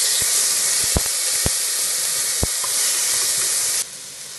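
Onions sautéing in a pan for mutton soup produce a loud, steady hiss of sizzling oil with a few sharp utensil clicks, then the sound drops off abruptly near the end.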